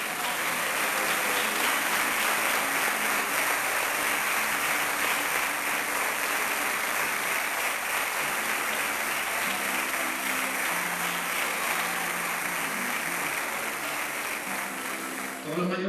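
A closing gala audience claps loudly and steadily for students of a Tai Chi workshop. The dense applause fills the room without a break, with a few faint voices mixed in.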